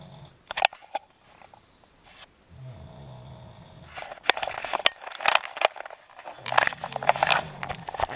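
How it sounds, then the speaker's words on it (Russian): A person snores in two slow, low rasping breaths while camping in the Taganay mountains, mixed with close rustling and sharp clicking handling noises and no talk. "Храпит."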